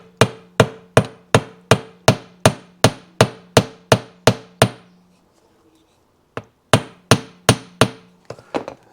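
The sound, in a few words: hammer striking metal wire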